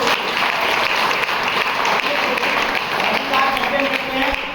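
Audience clapping at an Ayurveda seminar, a steady wash of applause throughout with a voice speaking over it.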